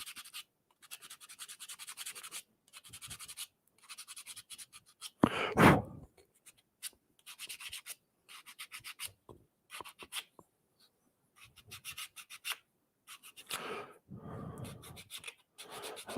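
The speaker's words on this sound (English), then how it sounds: "sand off by hand fairly easily. We get 120 to start on that." Wood is sanded by hand with 120 grit sandpaper in short scratchy strokes, bursts of rubbing separated by pauses, close and fairly quiet.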